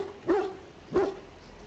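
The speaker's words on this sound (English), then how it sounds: "Those dogs are really annoying." Dogs bark in the Dragon Age: Origins video game at the Ostagar camp, two distinct barks roughly half a second apart, clear and moderately close with no talking over them.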